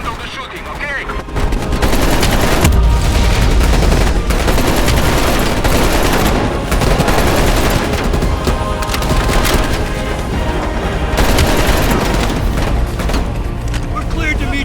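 Gunfire rings out during a helicopter chase in Call of Duty: Black Ops Cold War, with dense, loud rapid shots and splintering impacts over a roaring engine while voices shout now and then.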